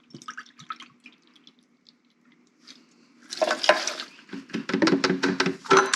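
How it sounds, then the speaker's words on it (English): Half a cup of white vinegar poured over dried chilies, starting with a few quiet drips and then a close, wet splashing and trickling pour with no talk over it. "I'm going to add 1/2 cup of white vinegar."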